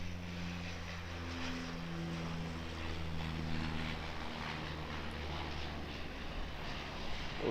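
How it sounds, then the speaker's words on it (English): Q300 turboprop airliner on a flight from Tauranga, a steady low propeller drone with layered humming tones, fairly faint and distant, continuous with no speech. "Flight from Tauranga here, Q300, 5146 is the flight number"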